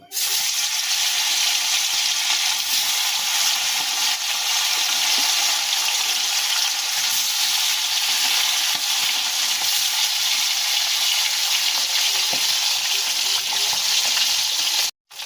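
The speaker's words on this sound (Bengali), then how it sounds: "কড়াটা গরম হয়ে গেছে এবার আমরা মাছগুলোকে দিয়ে দেব" Fish frying in a hot kadai for a homestyle Bengali fish curry with taro gives a loud, even, hissing sizzle that holds unbroken for the whole stretch, with no voices.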